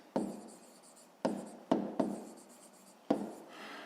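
Chalk strikes and scrapes on a classroom board as a teacher writes out a fifth-grade maths problem, five sharp tapping strokes at irregular intervals, each followed by a brief scratchy drag, with no talking.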